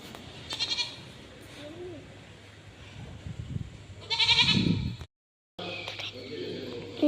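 A young goat kid bought for a temple offering lets out a loud, quavering bleat midway, amid outdoor chatter and voices before and after, with a brief dropout near the end.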